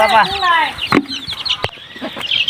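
A chicken clucks up close in a village home, giving a quick run of short, throaty calls. A few sharp knocks and a voice speaking follow.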